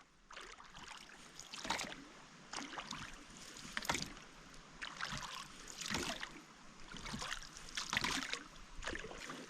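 Rhythmic oar strokes from a small Ka Boat 365 HD splash and dip into water at a steady pace, about one every second, with gentle trickling between strokes; quiet and close.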